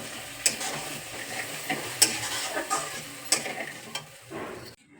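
Spice paste stirred and sautéed in a pan for an egg curry, with a spatula scraping and clinking against the pan over a soft steady sizzle, loud and close throughout.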